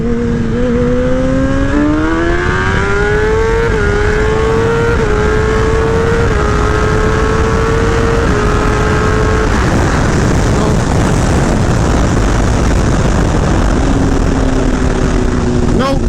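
Vehicle engine held at full throttle, a loud close drone whose pitch climbs in steps as it pulls through a long gear, then falls away after about ten seconds before rising again, with some talk mixed in.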